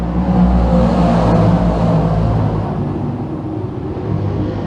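A pack of DIRTcar 358 Modified race cars roars on the Can-Am dirt speedway at a green flag, a dense, loud engine rumble that swells early and then eases slightly as the field pulls away.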